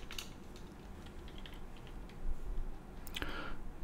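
Quick, uneven keystrokes on a computer keyboard, typing a search while playing a Minecraft modpack, patter lightly and close, with a denser cluster of clicks near the end and no talking.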